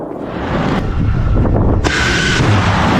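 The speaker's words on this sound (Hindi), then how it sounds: "कद्र मिसाइल दागी ईरान ने अमेरिकी ठिकाने जो अरब देशों में।" An Iranian Qadr missile launches toward US bases in Arab countries with a loud, continuous roaring rumble and blast-like bursts, buffeted by heavy wind noise throughout.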